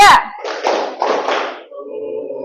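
Hand claps from a classroom clapping game, a sharp burst of claps at the start followed by children's voices calling out together, then a quieter murmur.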